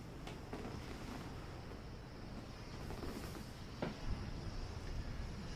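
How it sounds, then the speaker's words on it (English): Faint ocean waves wash steadily in the distance at North Jetty on the Washington coast in January, a soft continuous hiss mixed with wind noise across the microphone. "get some pictures and some sound bites of the waves"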